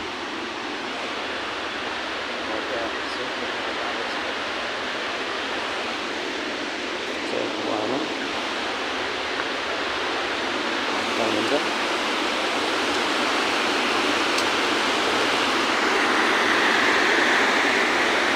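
Water rushes through the rocky Chovar gorge, Kathmandu valley's outlet, as a dense, constant roar that swells slightly toward the end, with faint voices buried beneath it.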